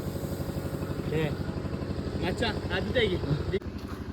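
A motorcycle engine runs steadily close by with a throbbing, low rumble, while people talk over it.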